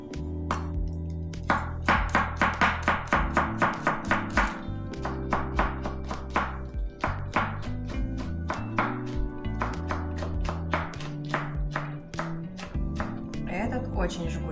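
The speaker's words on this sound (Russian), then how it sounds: "И нарезаю острый перец." A knife rapidly chops hot pepper finely on a cutting board, rhythmic close taps in quick bursts over background music.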